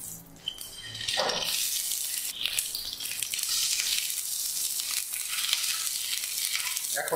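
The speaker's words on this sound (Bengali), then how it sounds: "পটলগুলো তুলে নেওয়ার পর সেই তেলেই দিয়ে দিব ডিমগুলো" Eggs sizzle and spatter in hot oil left over from frying pointed gourd, a bright crackling hiss that rises after a quiet start and holds steady with occasional pops.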